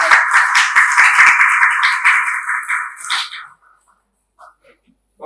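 Audience giving a round of applause for the leader of a delegation to Jamaica, a loud burst of clapping that fades out after about three seconds, leaving near silence.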